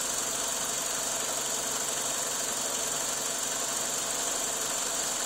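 A 2000 Ford Focus engine idles with a shaking vibration, a steady close mechanical hum and rattle running evenly throughout without any talking.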